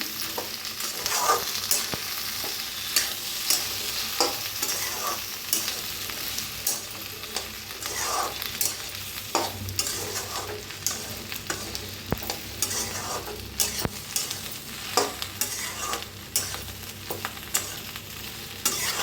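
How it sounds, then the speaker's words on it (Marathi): Okra is stir-fried for lasuni bhendi masala, a steady frying sizzle broken by frequent spatula scrapes and clacks against the pan in an irregular rhythm, close and with no speech. "आता ह्याच्यातच टाकायची आपली ही भेंडी। छान भाजून घेऊया।"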